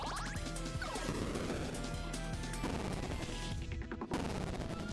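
A magic missile spell cast in Super Lesbian Animal RPG, a video game, unleashes a loud burst of sweeping, zapping tones and crashing hits. Rhythmic game music runs underneath, and the effect is briefly cut by a sharp break near the end.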